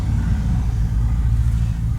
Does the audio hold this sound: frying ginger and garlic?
no